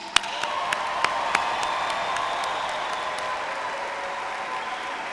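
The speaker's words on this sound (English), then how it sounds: "Join me in one more round of applause for the class of 2022." A graduating law class at a university hooding ceremony receives a sustained round of applause from the hall, with a few sharp claps standing out at the start over a steady crowd wash.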